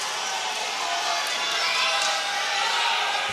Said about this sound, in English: A crowd getting behind both girls for this last round.